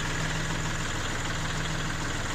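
A tractor engine runs during cherry picking, a steady close rumble with a faint rhythmic knock throughout and no talking.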